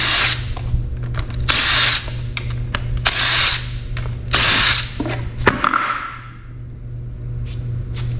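Power tool buzzing in repeated bursts as it spins off 8 mm valve cover bolts on an LS V8 engine, loud and close, with ratcheting clicks between runs and no talk.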